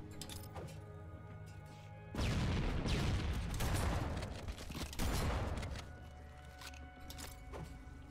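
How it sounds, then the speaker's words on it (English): Shotgun fire in Halo 1 on Legendary, heavy booming blasts with crunching impacts that form a dense loud burst lasting several seconds, set against quieter game ambience with no talking. "This is a shotgun."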